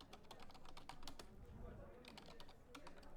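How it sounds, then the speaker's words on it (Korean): Typing on a computer keyboard while entering an example document into a word processor, a steady stream of quick close key clicks with a faint low room hum underneath. "편집창에 오늘 사용할 예제 문서를 입력하도록 하겠습니다"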